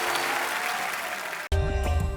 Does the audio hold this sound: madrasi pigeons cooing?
no